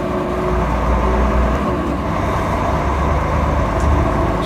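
Volvo FMX 480 8x4 tipper truck underway, a loud, deep diesel drone from inside the cab with a brief dip in engine note as it shifts gear, then steady rumble again.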